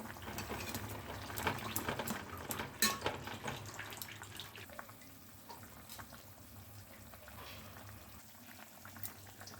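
A Bengali small fish curry with potato, radish, brinjal, bori and beans bubbles steadily in a pot, a continuous close boiling hiss with busy popping bursts, loudest early and easing slightly later, with no talk.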